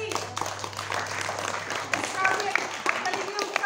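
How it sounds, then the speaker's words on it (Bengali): An audience clapping after an awareness drama performance, a dense continuous patter of many hands close by, with a voice speaking over it. "জোরে হাততালি"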